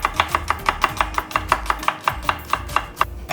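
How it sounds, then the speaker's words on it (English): Onions chopped thinly with a knife on a cutting board for Korean mung bean pancakes, about fifteen quick, even thuds in a steady close rhythm, with no talking. "Chop the onions thinly too."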